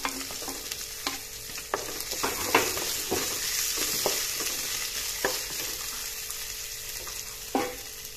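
Potatoes tumbling into a pan of browned onions, frying with a steady broadband sizzle and repeated sharp scrapes and clacks of stirring, fairly close, with no talking.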